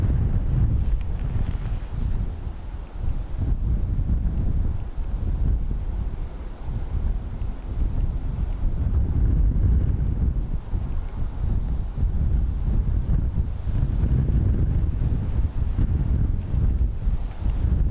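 Strong wind buffets an outdoor camera microphone at Dublin Airport, giving loud, low rumbling gusts that surge and ease throughout, with no speech.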